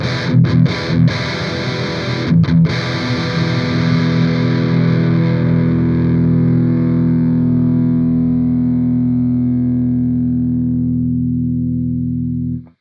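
An electric guitar runs through an Amplitube Soldano amp simulator, striking a few distorted chords and then letting one ring out with long, slowly fading sustain before it cuts off, loud and alone.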